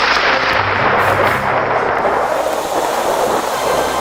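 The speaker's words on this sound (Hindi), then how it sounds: "बादल गरजने लगा, अब जरूर बारिश आएगा।" A deep, continuous rumble of thunder rolls steadily throughout, loud and broad with no voices.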